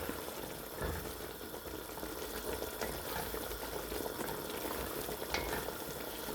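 Ogbono soup with stock, oil, Maggi cube and crayfish bubbling in a pot, a steady close boiling and sizzling texture throughout with no voices.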